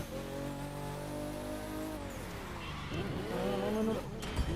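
Race cars in a GTA roleplay video game rev their engines and roar steadily, with pitch sweeping up and down as they accelerate and corner, fairly quiet and continuous.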